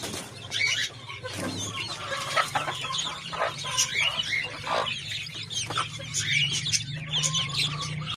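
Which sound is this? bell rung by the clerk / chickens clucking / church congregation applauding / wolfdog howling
chickens clucking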